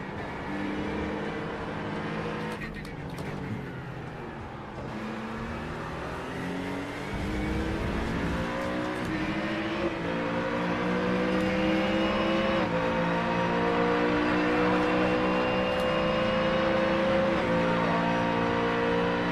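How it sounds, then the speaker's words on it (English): Race car engines in the iRacing sim racing game, a GT3 or IMSA field at speed, roar steadily and loudly for the whole stretch. Revs rise and fall through the gears as cars run close together. "can you turn your engine down?"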